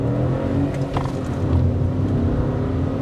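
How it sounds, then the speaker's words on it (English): 2022 Citroen C3 turbo-petrol engine pulling away in first gear under hard acceleration, a steady loud drone of engine and road noise heard from inside the cabin, with no talking. "listen to the engine"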